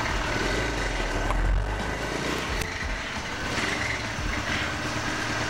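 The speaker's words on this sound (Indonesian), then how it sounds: "Jadi motornya nyala guys" A 1996 Honda GL Max motorcycle engine runs steadily at idle, a continuous low rumble with a smooth, even drone that stays fairly close and unbroken throughout, with no voices over it.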